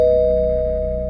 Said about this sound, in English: someone rang the doorbell again